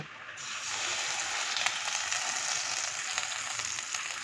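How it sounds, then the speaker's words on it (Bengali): Khoi fish roe frying in hot oil in a frying pan gives a loud, steady, close sizzle that runs unbroken throughout. "প্রথমে আমি মাছের ডিমটাকে ভেজে নেব"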